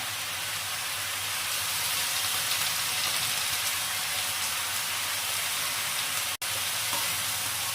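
Mixed vegetables with Malabar spinach and soaked red chickpeas sizzle and fry in a pan for a Bengali labra dish. The hiss stays steady throughout, broken by one sharp click near the end.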